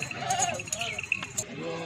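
Goats in a household pen bleating in short wavering cries, close by, mixed with someone talking and faint background chatter.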